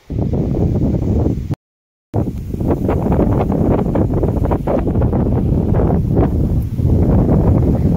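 Strong wind buffets the microphone outdoors beside a groundnut and maize field, a loud continuous rumbling roar with gusty pulses that runs nearly the whole time, broken by one short gap of silence.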